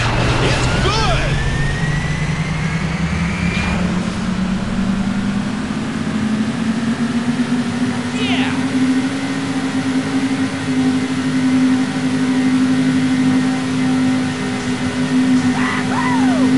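Race car engines in the City Racing 3D street-racing game rev up, their whirring pitch climbing steadily and then holding high and loud, with brief effect sounds layered on top.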